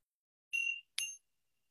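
Two bright, ringing strikes of a meditation bell, close and clear in a quiet room, the second struck shortly after the first, each tone fading quickly.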